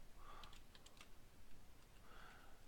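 Faint, quick keystrokes on a computer keyboard while code for an LCD I2C display is typed, a short run of light clicks over a quiet background hiss.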